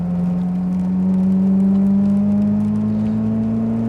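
A Ferrari sports car engine revs steadily in the rain, its pitch climbing slowly and evenly for several seconds, loud and close, with no voices.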